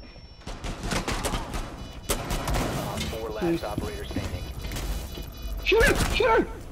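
Gunfire in a video game, with bursts of shots and impacts mixed under loud, excited talk from players throughout.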